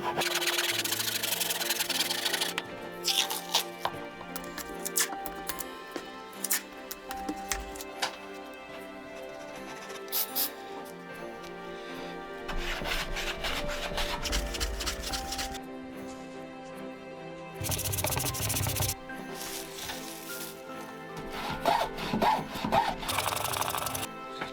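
Handsaw cutting an old wooden floorboard down to size, with bursts of rasping back-and-forth strokes that alternate with quieter pauses, heard close up throughout.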